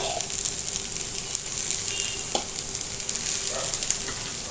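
Schezwan Maggi being mixed in a hot pan, an even, fairly loud sizzle with intermittent spatula scrapes and light knocks against the pan; no talking.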